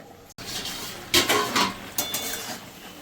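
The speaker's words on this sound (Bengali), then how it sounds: "এখন আমি ঢাকা দিয়ে দিলাম" A lid set onto a cooking pot while greens are cooked, giving a couple of short clattering metallic knocks close by, with no voices.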